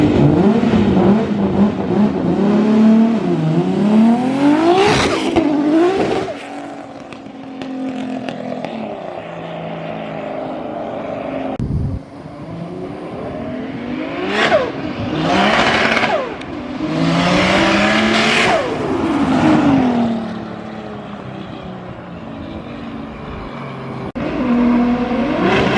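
A 1250whp car with a turbocharged RB30DET engine revs hard nearby in repeated loud surges. The pitch climbs and drops between bursts, with no one talking.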